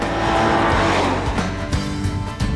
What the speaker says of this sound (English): the Vortec motor sounds like it's having a ball